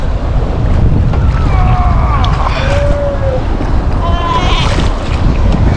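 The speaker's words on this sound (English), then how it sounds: "In the meantime, the wind's been coming up and getting stronger and stronger and stronger." Strong wind on a wilderness coast roars and buffets the microphone in a loud, constant rumble, with faint higher whistling and calls breaking through now and then.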